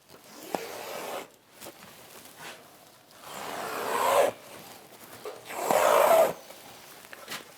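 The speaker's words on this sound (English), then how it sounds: "cut the underlay 45 degrees out of the corners" Window flashing underlay is cut at 45 degrees into the corners, heard as close rasping and scraping strokes of blade and material that swell twice into louder rough tearing passes.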